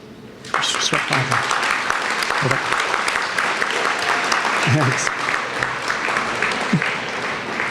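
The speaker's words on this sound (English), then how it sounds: "I need a round of applause for approval of your board of directors and your executive committee for 2018" Audience applause at a business awards dinner for approving the board of directors and executive committee: sudden loud clapping that holds steady throughout, with a brief word spoken over it.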